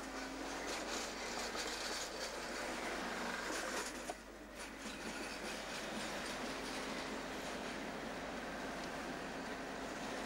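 An old tram on worn rails in Bucharest in 1990 rattles and clatters along with a steady rumble, with wheels squealing against the track, heard from on board throughout.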